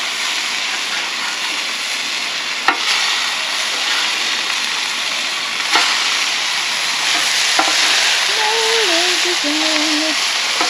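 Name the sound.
cinnamon bun sandwich frying in a pan after flipping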